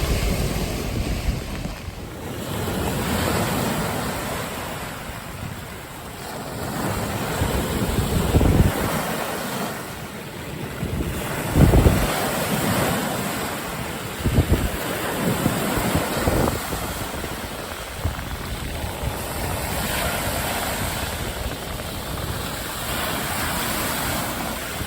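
Steady roar of ocean waves and surf in the rain at Point Pelee, with gusty wind buffeting the microphone, occasional louder swells breaking nearby; no voices.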